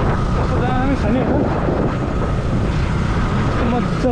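Steady, loud wind rushes across open rice paddy fields on a hillside in eastern Nepal, buffeting the microphone with a constant roar and faint rustling beneath.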